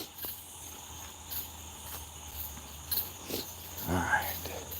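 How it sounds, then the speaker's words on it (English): A nighttime chorus of crickets in Florida trills steadily and fairly loudly throughout, with faint nearby rustling and a brief soft voice near the end. "those are some loud crickets"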